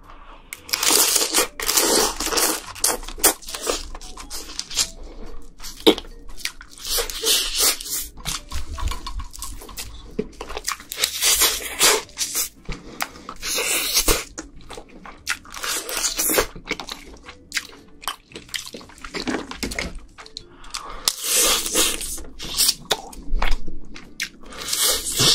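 A giant king crab is eaten up close: its shells crack and crunch loudly, with tearing, wet chewing and slurping in dense, continuous bursts and no talking.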